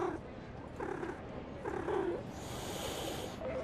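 A cat in a video game purrs softly and steadily as it is petted, with faint chirpy vocal bits surfacing now and then over a murmuring background.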